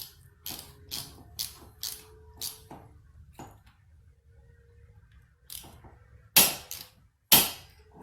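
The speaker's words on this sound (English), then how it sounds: "I'm going to use my TPMS torque wrench that I always like to use, and I set it to 40 inch-pounds" A TPMS torque wrench set to 40 inch-pounds tightens a bolt during ignition coil and spark plug work on a 2009 Pontiac Vibe 1.8L. Close, crisp ratcheting clicks come in short bursts, then two louder sharp snaps at the end, with no talk.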